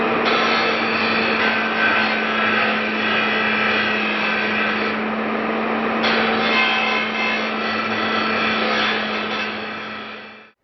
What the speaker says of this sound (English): So I'm going to be grinding off this, probably cut off this in here